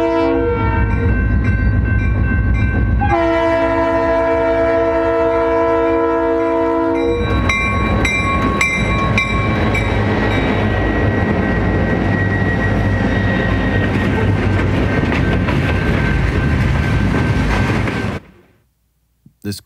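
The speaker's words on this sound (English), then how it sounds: "So here comes the train." A Keokuk Junction Railway freight train hauled by GP20 locomotives passes a grade crossing, its horn blasting in long loud sustained tones over heavy engine rumble and rolling wagons, close by, then cutting off abruptly near the end.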